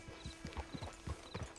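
A horse in Red Dead Redemption 2 clip-clops along in quick, regular hoofbeats, close and fairly quiet, with nothing else over it.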